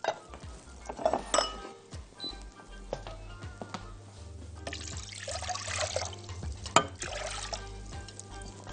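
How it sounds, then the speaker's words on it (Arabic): Water running into a cooking pot set on the stove while brine for Egyptian pickles is being made, a steady trickle with clinks of metal and a louder pouring stretch midway, no talk. "وهحط لها المية"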